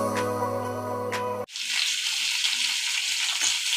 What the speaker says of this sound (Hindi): आज कुंदरू की सब्जी बनने वाली है, तो उसको अब तलूंगी